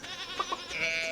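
Sheep in the Stardew Valley farming game bleat in short wavering cries, a couple of quick calls followed by a longer sustained bleat, moderately loud over a steady background of game music.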